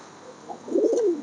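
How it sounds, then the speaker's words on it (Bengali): A pigeon gives a soft, rolling coo, brief and close, rising then falling over about a second against a quiet background. "ফ্রেশ কবুতর"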